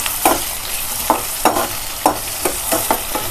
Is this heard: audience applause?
no